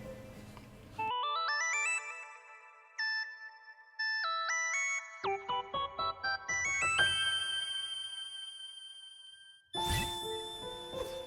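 Madeline's theme in A minor from Celeste, played as bright chiming synth melodic lines with sustained bell-like tones, briefly pausing and swelling back in near the end.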